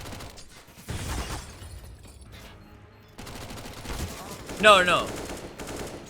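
Bursts of gunfire in a Counter-Strike match at a Major tournament, with a loud sharp volley near the end, mixed with game noise and a voice speaking briefly.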